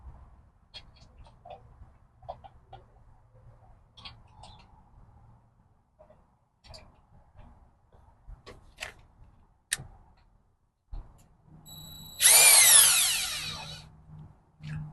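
A power drill drives black finishing screws into a keypad lock on a commercial glass door, heard as a loud close whirring burst near the end after scattered taps, clicks and handling sounds.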